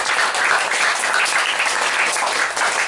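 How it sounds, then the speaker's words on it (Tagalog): A church congregation breaks into loud, continuous applause during a worship service, with a thick wash of many hands clapping at a steady level throughout. "Malakas ang palakpak sa Lord."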